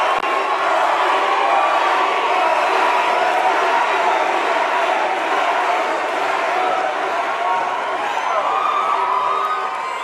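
A large, boisterous crowd at a Bernie Sanders rally in Flagstaff, Arizona roars nonstop, a loud, dense wall of cheering and whooping that never lets up.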